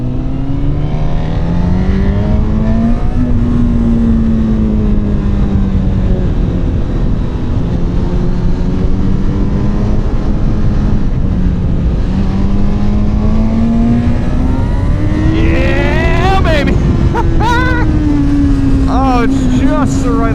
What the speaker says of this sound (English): Just the right amount of power to just really love getting it up into those high RPMs, letting it pull.